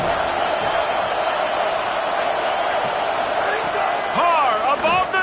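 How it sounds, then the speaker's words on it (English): Loud college football stadium crowd at Notre Dame greeting visiting USC: a dense, steady roar of cheering fills the whole stretch, with a commentator talking over it and a few whoops and whistles rising near the end. "This crowd bringing an ear-splitting welcome to their visitors."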